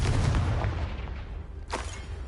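A Confringo fire spell in Hogwarts Legacy gameplay lands as a short booming blast with a rumbling tail, followed by a sharp crack of a second impact, loud with no talk.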